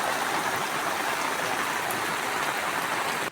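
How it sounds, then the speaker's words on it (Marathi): Heavy rain pours steadily and loudly without a break, a dense hiss of drops on surfaces at a village woodshed, with no talking. "पाऊस खूप पडतोय"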